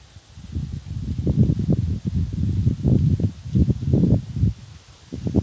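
Gusty wind rushes through trees beside evening rice fields in rising and falling waves, leaves rustling loudly and continuously with brief lulls between gusts.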